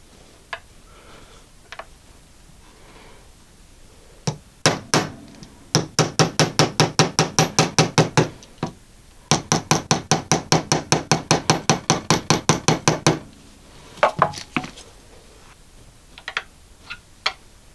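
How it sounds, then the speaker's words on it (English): Rapid metallic tapping of a hammer on bass guitar frets in two long runs of evenly spaced strikes, bracketed by a few scattered single taps, close and crisp. "I'll give them a reseating with my special hammer in a sec"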